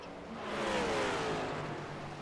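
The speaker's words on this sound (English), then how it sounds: "You hear him off of the gas, cutting the car off, trying to save some fuel inside of this race car" A Next Gen Cup Series race car in a racing video game at Phoenix Raceway lifts off the throttle to save fuel, its engine a steady, mid-level whirring drone that swells gently and fades away.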